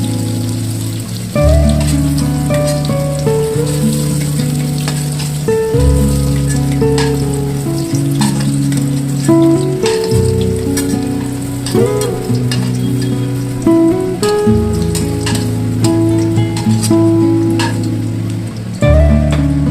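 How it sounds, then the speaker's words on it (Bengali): Paneer pieces fry in hot oil with a steady, loud sizzle and crackle throughout, broken by occasional stirring and turning clatter; no one speaks. "পনিরগুলো লাল লাল করে ভাজা হয়ে গেলে পনিরগুলো তুলে রাখতে হবে।"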